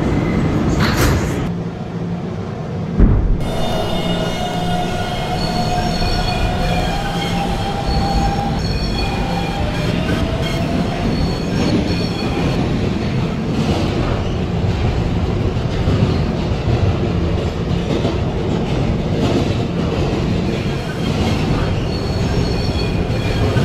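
Roblox R152 subway train on a local run, a continuous loud rumble with rail clatter and squealing wheels, a brief door-chime tone early on, steady and close throughout.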